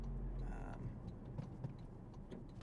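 Steady low engine rumble and road noise heard from inside a car cruising along, with occasional small rattles and thumps; faint voice-like sounds underneath but no clear talk.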